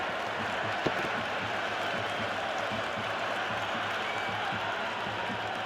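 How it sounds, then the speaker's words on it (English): A crowd in the Cricket 26 video game during an India versus England ODI, heard as a dense, continuous wash of cheering and applause that stays steady, with a commentary voice mixed in. "The crowd is electric right now."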